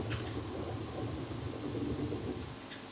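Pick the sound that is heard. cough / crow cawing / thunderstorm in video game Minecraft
thunderstorm in video game Minecraft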